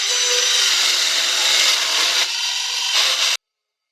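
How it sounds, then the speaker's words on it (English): Cordless Bosch Pro GKS 12V 26 compact circular saw slicing through a thin wooden board, a steady loud whining rasp of blade on wood lasting about three seconds with a slight dip midway before it stops abruptly. "I'm just going to cut and try to make this part a bit cleaner"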